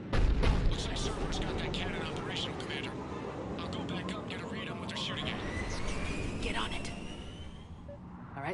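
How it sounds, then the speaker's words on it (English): In the video game Mass Effect 3, a Cerberus artillery cannon fires with a heavy booming blast at the start, followed by a sustained rumbling battle din and faint whistling tones. "Looks like Cerberus got that cannon operational, Commander."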